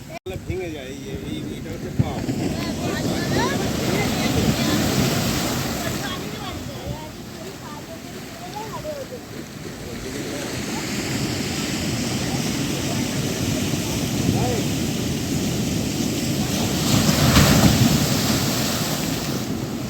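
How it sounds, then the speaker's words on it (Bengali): Sea waves roll onto the beach at Digha, a continuous broad surf wash that swells and recedes over steady wind buffeting the microphone, with surges near the start and toward the end. "খালি ঢেউটা দেখো, এত সুন্দর"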